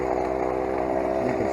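A Stihl chainsaw idles close by, its steady two-stroke engine hum held at an even pitch for the whole moment, with no voices.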